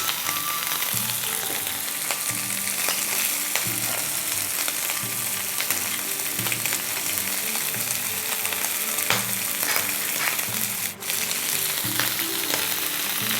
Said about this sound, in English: We'll fry the pork for about 20 minutes.